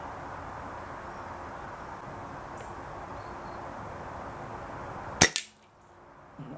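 A single sharp rifle shot at a shooting range, cutting through a steady wind-like hiss near the end and followed by a brief echoing tail and quiet.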